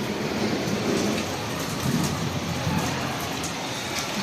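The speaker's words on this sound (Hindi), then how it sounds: "बारिश कमरे में आ रही है।" Heavy rain pours during a storm in a house in Pakistan, with water coming into a room: a steady, dense hiss with low rumbling underneath, continuous and fairly close, with no voices.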